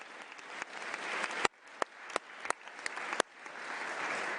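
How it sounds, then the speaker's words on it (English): An audience in a conference room at a United Nations youth activists summit in Geneva gives a short round of applause, a steady patter of clapping with a few sharper individual claps, moderately distant and fairly quiet. "First of all, a round of applause."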